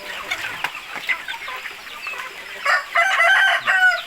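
Chickens clucking close by, with a rooster crowing loudly near the end over a quiet outdoor background, during rain at evening feeding.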